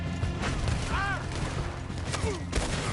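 Gunfire rattles in a Red Dead Redemption 2 shootout as a gang flees, with steady shots through dense battle noise while voices shout over it.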